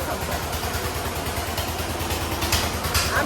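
A motorcycle engine idles close by during evening dairy work, putting out a steady, even low throb of regular pulses with a slight rise near the end and no talking over it.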